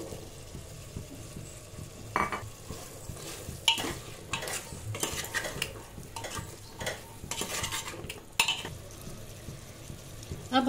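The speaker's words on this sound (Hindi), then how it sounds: "अब हम इसके अंदर छोले डालेंगे।" Chickpeas tipped into fried masala with yoghurt and stirred, a soft sizzle under repeated scraping and clinking spoon strokes at an uneven pace.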